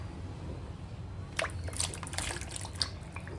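Apricots dropped into water in a cooking pot, a few soft plops and light splashes over quiet background hiss, close and fairly faint.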